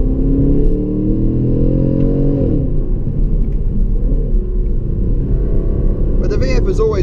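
The LS3 V8 of a 2016 Holden Calais V Sportwagon VFII accelerates with a loud, deep rumble that climbs in pitch, then settles into a steady drone, heard close from inside the car with a brief voice near the end.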